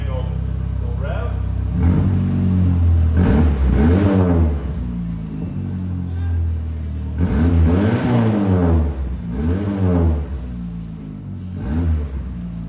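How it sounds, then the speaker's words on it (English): A Plymouth Spirit car with a modified exhaust idles, then revs several times in rising and falling sweeps, loud and close, with a deep rumble between the revs. "Fire it up. Yeah. Sounds the same, just cleaner because the hole isn't all mangled. We'll rev."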